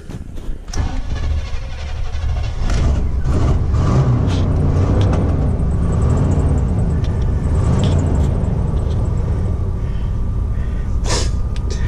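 A car engine cranks with the ignition key in cold weather, catches, and then settles into a steady, loud idle that rumbles on close by for several seconds.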